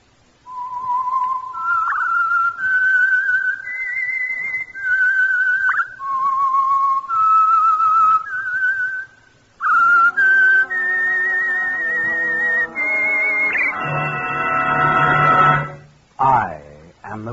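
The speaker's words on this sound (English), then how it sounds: "the signal to listen for is this whistle that identifies the Signal Oil Program" Whistled theme of The Whistler, a Signal Oil radio show: a solo, eerie melodic whistle of sustained notes rising and falling, then joined by an orchestral swell before it ends.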